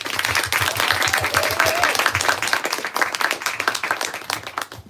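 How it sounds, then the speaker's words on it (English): Audience applause for two authors at a bookstore-style book event on the eve of Valentine's Day, a steady patter of many hands clapping close by with a few whoops over it, lasting the full five seconds. "please give a round of applause to these authors."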